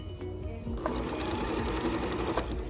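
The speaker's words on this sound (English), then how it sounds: "now I'm just gonna sew straight all the way down to the end of the skirt" A sewing machine stitches a long straight seam down a maxi skirt, its motor whirring steadily with a fast, even needle rhythm, close up and continuous with no talk.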